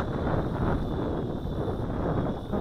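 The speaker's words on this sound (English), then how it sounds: "This wind is real strong today," Strong outdoor wind buffets the microphone during a flight test of a Tarantula Spider 1505 drone, making a loud, constant rumbling roar with a faint thin whine above it and no voices.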